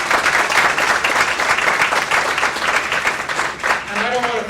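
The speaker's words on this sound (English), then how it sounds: "let's give ourselves a round of applause" Applause from a forum audience, a full crowd clapping steadily and fairly loudly, thinning slightly near the end as a voice begins to talk over it.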